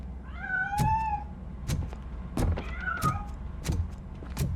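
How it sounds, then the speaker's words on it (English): A cat meows a few times in clear, drawn-out calls in the video game RoboCop: Rogue City, with repeated dull thumps and a low hum running underneath. "That cat must be hiding inside."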